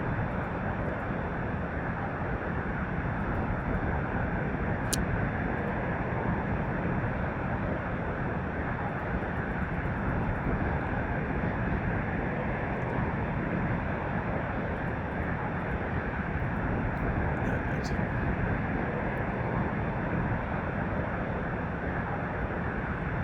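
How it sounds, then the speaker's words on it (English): Steady, loud airplane engine roar from an X-Plane 11 takeoff, a continuous broadband drone holding even across the whole stretch with no talk. "That was a terrible takeoff."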